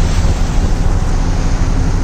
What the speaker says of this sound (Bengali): ঢেউ এসে পায়ের আঙ্গুল ছুঁয়ে আবার ফিরে যাচ্ছে,